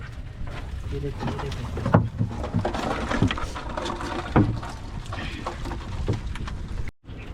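A small boat drifts on a creek during traditional crab fishing, with a constant rough wash of water and wind buffeting close to the microphone, punctuated by knocks and splashes and a voice talking over it.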